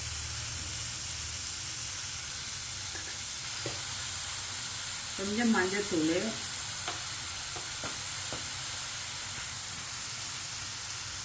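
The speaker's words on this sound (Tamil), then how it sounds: "இந்த பாவக்காயும் சேர்த்து வதக்கிடலாம்" Bitter gourd and chickpeas being sautéed with salt and turmeric in a pan give a steady soft sizzle and hiss throughout, with a short spoken remark partway through and a few light utensil taps.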